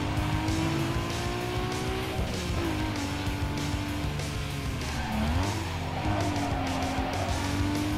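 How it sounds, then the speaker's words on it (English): A car drifts in Need for Speed Underground 2, its tires squealing in long sustained wails that bend in pitch over a droning, revving engine, continuous and loud with no one speaking. "let's do a drift over there"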